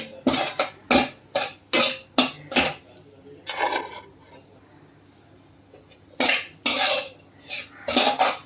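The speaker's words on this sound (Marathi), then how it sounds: "तर आता मी सर्व रवा भाजून घेते." Semolina (rava) for fenugreek laddoos dry-roasting in a pan, stirred with a utensil: a run of crisp, regular scraping strokes, a quiet pause in the middle, then more scrapes, close and fairly loud.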